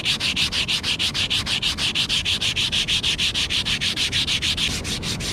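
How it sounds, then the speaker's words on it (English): Sandpaper rubs back and forth over a flat piece of wood, a steady rhythmic rasp of quick, even strokes, close and loud with no talking. "So I'm going to use this sandpaper. We're going to rub this down."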